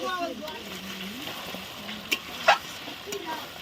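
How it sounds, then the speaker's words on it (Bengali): Mutton head masala with Kashmiri chilli stir-frying in a pan, giving a steady close sizzle with a few sharp scrapes and clinks of stirring partway through. "সুন্দর করে কষবেন, বেশ কিছুক্ষণ ধরে কষবেন।"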